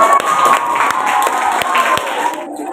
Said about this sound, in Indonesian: tepuk tangan untuk paslon 1